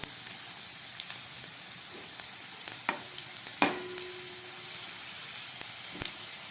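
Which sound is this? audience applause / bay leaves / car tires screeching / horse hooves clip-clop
bay leaves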